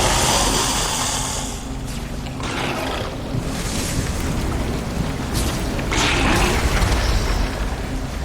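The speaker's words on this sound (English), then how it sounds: "Banshees are bombarding your dungeon core." Banshees bombard a dungeon core in War for the Overworld: loud, continuous roaring booms with repeated bursts and impacts, heavy and close throughout.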